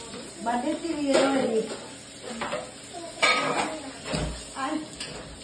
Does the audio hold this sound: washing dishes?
yes